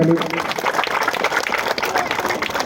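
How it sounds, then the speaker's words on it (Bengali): Loud applause from an audience at a live event for the Rahul Roy Smriti Trophy, a dense wash of clapping that runs steadily through the whole moment with a voice briefly audible near the start. "জোরে হাততালি জোরে হাততালি"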